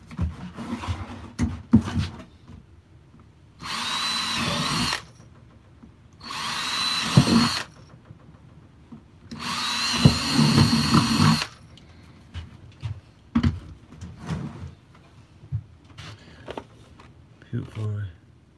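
A power drill whirs in three sustained bursts, each a few seconds long, separated by clicks, handling noise and brief talk.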